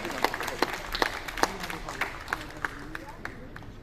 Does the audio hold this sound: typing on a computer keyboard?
no